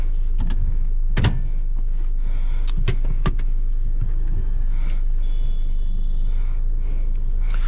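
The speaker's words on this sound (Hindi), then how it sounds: "स्टार्ट कर दी है हमने गाड़ी यहाँ पर" Hyundai Verna diesel sedan with about 122,000 km on it, engine running steadily after start: a continuous low idle rumble with a few sharp clicks and knocks near the start.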